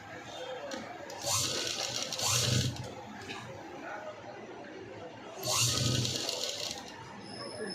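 Sewing machine stitching along a folded cloth lining, heard in two loud bursts of steady whirring stitching separated by quieter handling sounds, close up with no talk.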